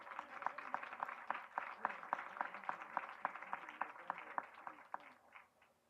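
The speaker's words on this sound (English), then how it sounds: "So let's give ourselves a round of applause." Scattered clapping from a modest audience at a community's 25th anniversary celebration, rhythmic hand claps at fairly steady pace for several seconds, thinning out toward the end.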